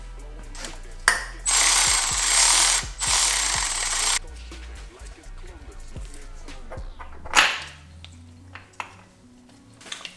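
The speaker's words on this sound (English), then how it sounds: "You slide it in there and screw in the bolts that go on the side." Bolts being screwed into the oil filter housing of a Mercedes G500 W463, with close ratchet clicking, a steady burst of power-tool whirring, then metallic clinks and a sharp knock as parts settle.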